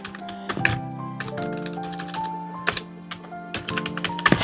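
Close computer keyboard typing while writing CSS code, quick irregular key taps with sharper clicks, over a faint tonal hum in the background.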